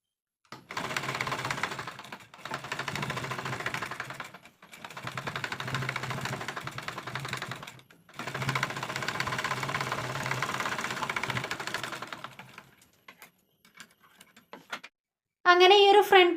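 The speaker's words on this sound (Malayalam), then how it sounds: "ഇനി തയ്യൽ തുമ്പോളൊക്കെ താഴത്തേക്ക് ആക്കിയിട്ട് മുകളിൽ കൂടി ഒന്ന് പതിച്ച് സ്റ്റിച്ച് ചെയ്ത് കൊടുക്കാം" A sewing machine top-stitches the pleated yoke of a nighty, running in four steady close-up bursts of rapid needle clatter with short pauses between them, then falling quiet before a brief voice at the end.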